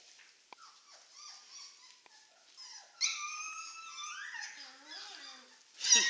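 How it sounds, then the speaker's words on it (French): Small 19-day-old wolfdog puppies whine and squeak softly at first, then break into louder overlapping yelps, whimpers and brief growly cries, close by. "on va commencer à avoir en fait des vocalises entre les chiots, y compris pas mal de grognements"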